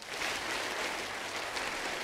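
A group claps hands together in a yoga and meditation session, a steady burst of clapping close by with no voices over it.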